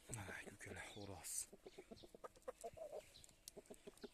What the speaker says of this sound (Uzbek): Mana aka-ukalar xo'roz.